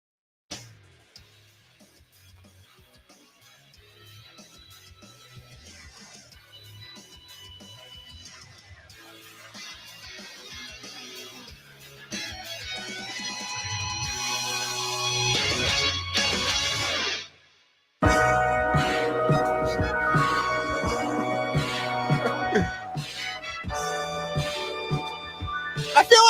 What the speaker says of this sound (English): This is the We Major instrumental.